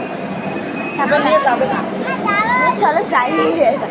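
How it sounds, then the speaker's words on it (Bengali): A Vande Bharat express train rumbles by close at hand, a steady broadband roar under two people talking throughout. "দেখো গাইস বন্দে ভারত ট্রেন"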